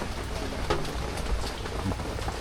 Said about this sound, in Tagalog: Lakas pa rin ang ulan hanggang ngayon.